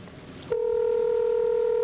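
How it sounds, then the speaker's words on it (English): Telephone keypad tone sounds, a short faint tone followed by a steady, loud sustained tone continuing to the end, with no talking. "We're calling the Dude"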